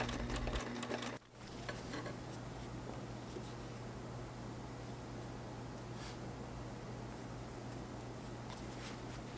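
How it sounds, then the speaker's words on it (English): A sewing machine runs a zigzag stitch to join leather to the metal loop of a guitar strap, giving a steady, close, continuous motor whir after a brief pause near the start. "I used a zigzag stitch to sew the leather piece to the metal loop"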